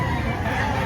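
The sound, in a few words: chicken clucking at a market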